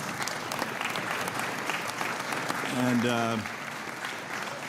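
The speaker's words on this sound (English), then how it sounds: "I think you can tell from the applause the enormous respect that people have for your job." Applause from the audience at a congressional committee hearing honoring the Joint Committee on Taxation's chief of staff, a steady wash of clapping with a voice speaking over it and a brief tonal sound near the end.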